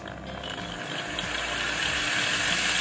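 An angle grinder fitted with a circular saw blade spins slowly under a dimmer control, giving a steady close-up mechanical whirring with a rapid ratcheting, gear-like rattle and no talking.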